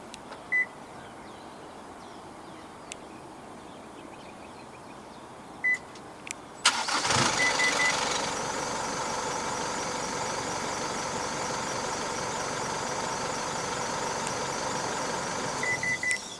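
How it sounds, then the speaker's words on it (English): 2023 Isuzu D-Max V-Cross 3.0 4X4 X-Terrain double cab pickup remote start: a few short beeps, then the engine cranks and catches at once and settles into a steady, even idle with repeated chirps, close by and no talking. "The X-Terrain is equipped with a remote engine start system."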